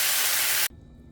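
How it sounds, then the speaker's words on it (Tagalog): Tomato and chayote sizzle loudly in a hot pan, a dense steady hiss that cuts off abruptly, leaving a faint low hum. "ginisa ko na po yung mga gulay"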